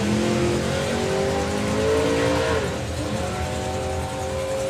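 Model A drag car launching down the strip at a drag racing event, its engine roaring loud and steady as the pitch climbs through the gears, then settling into a sustained distant drone.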